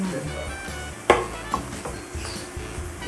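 Shrimp being stirred in a pan for palabok: a few sharp utensil clacks and scrapes against the pan over a low, steady background.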